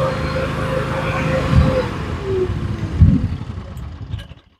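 A gasoline-powered mini skid steer drives straight ahead, its small engine giving a steady close rumble with a couple of brief louder surges before it fades out at the end.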